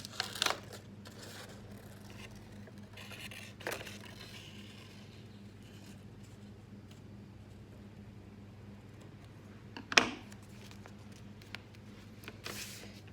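A few sparse, faint snips of scissors cutting a small paper nose for a bunny-shaped DIY craft bookmark, with quiet pauses between cuts and no talking.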